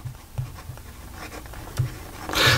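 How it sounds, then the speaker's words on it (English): A Pineider Avatar fountain pen with a medium steel nib writes on paper, giving soft scratchy strokes with light taps between them and a louder scrape near the end, close and quiet with no talking. "So here we go with the writing sample for the Pineider"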